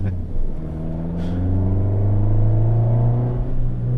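A Fiat 500 Pop's small engine drones close up while driving, its pitch climbing steadily as the car accelerates, with a low rumbling cabin tone and no talk.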